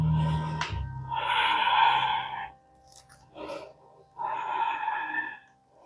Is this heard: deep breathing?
yes